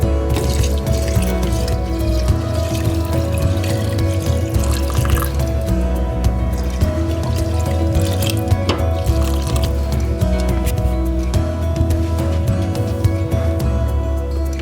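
Water pours steadily over rice in a cooking pot while vegan plov is made, giving a continuous, fairly loud liquid rush with dripping and splashing all the way through.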